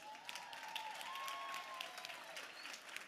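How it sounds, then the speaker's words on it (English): Keynote crowd at a real estate conference giving standing attendees a big round of applause, sustained clapping with a whistle-like tone and a few cheers over it, heard at a distance. "Give them a giant round of applause."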